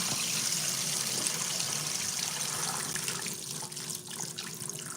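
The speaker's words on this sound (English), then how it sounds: "We are rinsing out these pasta noodles." Tap water runs steadily in a kitchen sink as elbow pasta noodles are rinsed, a continuous close splashing stream holding at a constant level throughout, with no talking.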